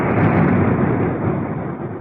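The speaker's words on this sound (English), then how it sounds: "And then there's the explosion." A single heavy explosion in a war-torn town booms as a dense, sustained roar that fills the whole clip and slowly fades, loud and without voices.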